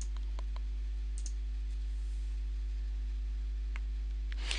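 A few sharp computer mouse clicks on a free download button, close and dry, scattered over a steady low electrical hum, with a final click at the end.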